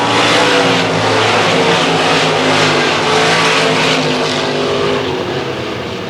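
A field of race cars roars away on the green flag at an oval speedway, loud engines blending into a dense, sustained snarl that holds steady throughout.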